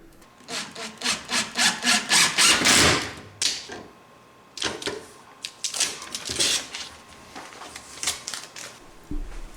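Screws are driven into wood with a drill while mounting a basement pull-up bar, heard as a run of short, close, rasping bursts of grinding and creaking, then a pause and a few more scattered bursts.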